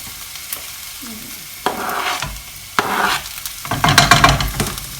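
Okra curry sizzles and crackles in a hot pan, with bursts of stirring and spatula scraping that grow louder toward the end; no voices.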